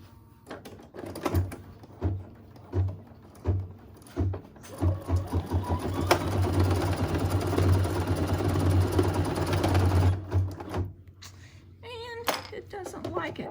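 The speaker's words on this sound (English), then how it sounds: "So now we're ready to stitch out all the numbers and the names on the lettering." An embroidery machine stitches out numbers and lettering in the hoop, giving a rapid, rhythmic mechanical chatter that runs steadily for several seconds in the middle. Brief stop-start bursts and a person talking come before and after it.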